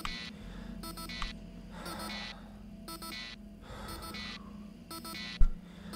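Repeated buzzer alarm in the video game Tin Can, a harsh electronic tone sounding in regular bursts about once a second over a low hum, fairly quiet.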